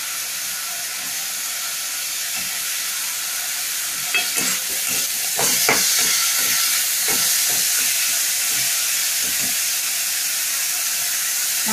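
Onion, carrot and chopped capsicum fry in a pan with steady sizzling and hissing, broken by a few scraping stirs, close and fairly loud with no talking.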